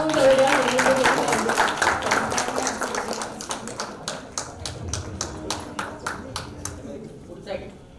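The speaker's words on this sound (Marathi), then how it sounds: "जोरदार टाळ्या होऊन जाऊया." An audience at an award ceremony in Nashik applauds, with dense clapping at first that thins into a run of evenly spaced, rhythmic claps before fading out, while voices carry underneath.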